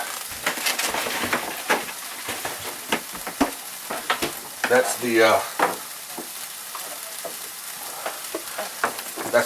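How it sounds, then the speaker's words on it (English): Crackling, popping sizzle of omelet egg mixture frying in a pan, busy and close, with a brief spoken phrase partway through. "Got this over here sizzling."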